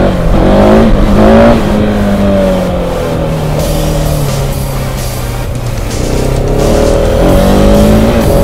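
A motorcycle accelerating hard in second gear, its loud engine note climbing and dipping in pitch, with heavy wind rush over the rider's microphone and no talk.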